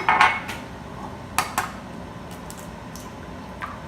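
Eggs cracked one at a time into a cup, giving a few sharp close clicks and taps of shell on the rim, with faint clinks of dishes between them.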